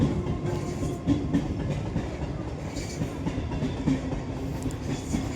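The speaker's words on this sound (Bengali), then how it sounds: "ট্রেন চলে যাচ্ছে দেখো" A train rumbles past nearby with steady broadband rolling noise and faint clattering of wagons, close and continuous throughout, at a busy level crossing beside a road.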